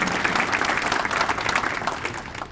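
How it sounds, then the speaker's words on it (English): Crowd applause at a village State of the Village presentation, a thick, lively burst of many people clapping that tapers slightly toward the end. "I think that also should have a round of applause"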